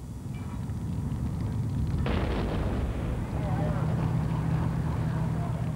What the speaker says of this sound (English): A highly dangerous hydrogen ignites and detonates.